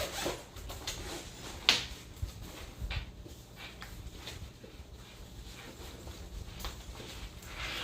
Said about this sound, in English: You just zip it and it will get its shape.